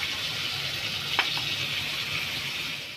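Cauliflower frying in a pan for a fish curry gives a steady, soft sizzle; water poured in adds a brief splash, then the hiss continues evenly.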